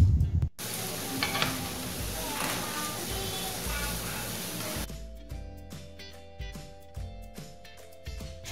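Meatballs and sausage hit hot oil while being stir-fried for nasi goreng, a loud close sizzle that fades to quieter crackling with intermittent stirring scrapes, without talk.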